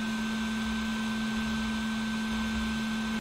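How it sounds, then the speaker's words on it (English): Cooling fan of a Toshiba Libretto ff 1100v laptop running loudly, a steady close whooshing hum with a fixed whine throughout, cutting off just before the end. "even with the fan sounding like a really shit hairdryer"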